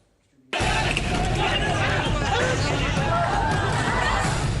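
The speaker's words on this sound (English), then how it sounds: "The mob cheering" A mob of hundreds outside the Batadrava police station, where parked vehicles are being set ablaze, bursts into a loud, dense, continuous roar of cheering and shouting that erupts suddenly and holds steady.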